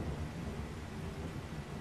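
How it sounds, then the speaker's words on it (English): Thunder rumbles low and continuously with rain in the 7 Days to Die video game, a steady, fairly loud storm roar with no speech. "That thunder is loud and scared me very much."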